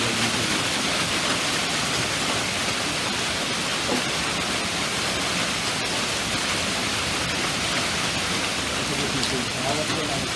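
Marble-size hailstones falling on a yard, a steady loud dense roar of impacts like heavy rain that stays even for ten seconds, with no talking heard.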